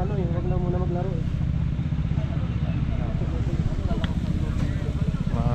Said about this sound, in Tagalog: Mga motor nila, mga Jet 125, bibilis.